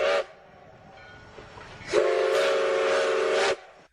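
A steam train whistle sounds twice: a short blast, then a longer steady one lasting about a second and a half, loud and close with a breathy hiss around the tone.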